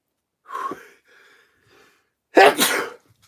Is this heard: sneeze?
yes